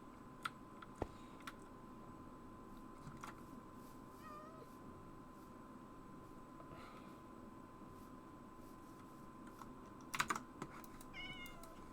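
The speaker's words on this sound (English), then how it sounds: "Leave the poor cat alone?" A cat meows faintly a few times in the background of a quiet room, mixed with scattered close computer keyboard typing and clicks under a steady low hum.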